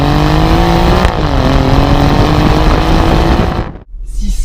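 A 510 hp Alfa Romeo Giulia Quadrifoglio sports sedan roars loudly up close from outside, its engine note rising under acceleration, then cuts abruptly before the roar returns.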